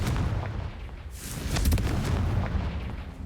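Confringo blasting spell from a wizard duel in a Harry Potter game, heard as a deep rumbling explosion with a crackling burst, loud and close, sustaining a roar for a few seconds.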